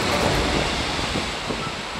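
Ocean waves washing onto a beach shore lined with agoho trees, a continuous broad rushing surf, loud and close with no voices.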